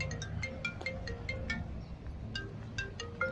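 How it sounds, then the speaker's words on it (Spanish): A mobile phone rings with an incoming call, a repeating series of short electronic tones in a steady melodic pattern, moderately close over a muffled background while walking to work. "alguien me llama de este teléfono"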